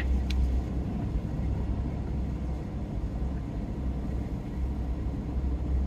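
Dually pickup trucks towing trailers rumble past at Daytona during NASCAR truck series hauler parking, a continuous low vehicle drone with no pauses.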